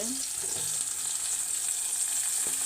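Tomatoes frying in a pan for egg curry, a continuous bright sizzle held at an even level, with a few faint clinks of stirring.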